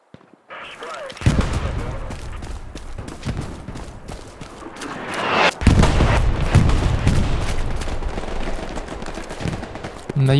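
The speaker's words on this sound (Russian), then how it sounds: "две пушки работают." Continuous heavy booming and rumbling of cannon fire in a game battle, with dense overlapping blasts and noise throughout.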